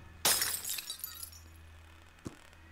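Glass shatters in the video game Welcome to Elk: one sharp, bright crash followed by tinkling shards scattering for about a second, then a small clink near the end, with no voices.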